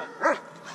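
A dog gives one short, close bark in an underground tunnel, followed by a faint whimper. The bark sits over a low, quiet background and nobody speaks.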